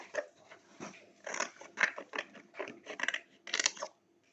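A dog close by gives a run of short, rough bursts, roughly a dozen in quick uneven succession with brief gaps between them, at moderate loudness with no voices over it.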